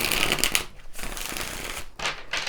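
Tarot cards being shuffled, quick papery riffling bursts up close, three short flurries separated by brief pauses.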